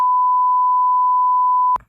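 A single steady high-pitched beep holds for nearly two seconds, then cuts off with a short click.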